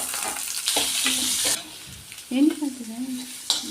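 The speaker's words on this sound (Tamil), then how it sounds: "நறுக்கி வச்சுருக்க வெங்காயம் பூண்டை போட்டு இப்போ நல்லா கொஞ்சம் கோல்டன் ப்ரௌன் வரைக்கும் பச்சை வாசம் போகிற வரைக்கும் நல்லா வதக்கிக்கலாம்" Onion and garlic sautéing in hot oil until golden brown, a steady close sizzle with scraping stirs and clinks of a utensil against the pan; a voice speaks briefly.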